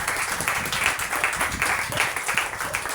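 A church congregation applauds Jesus during a French-language sermon, with steady dense clapping filling the room throughout, close and continuous with faint voices mixed in.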